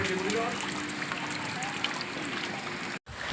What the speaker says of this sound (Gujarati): સવારનો વરસાદ પડે છે મિત્રો વરસાદ ઊભું રહેવાનું નામ નથી લેતો